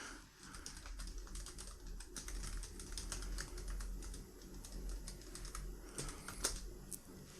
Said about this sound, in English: I'm gonna get tired of typing this password real quick.